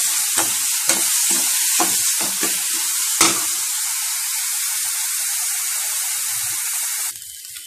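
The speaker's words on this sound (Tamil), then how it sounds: "நல்லா பச்சை வாசம் போகிற அளவுக்கு நம்ம வதக்கிக்கலாம்" Onion and garlic sauté for a kuzhambu curry with a loud, close sizzle. Several spatula strokes punctuate the first few seconds, then a steady hiss continues before it cuts off abruptly near the end.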